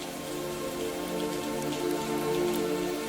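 Steady rain falling with a dense, even patter on surfaces, continuous and fairly close throughout, with no voices.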